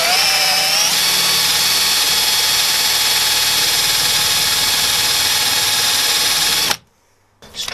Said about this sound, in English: the plan is to drill these two bad boys to retrieve the lock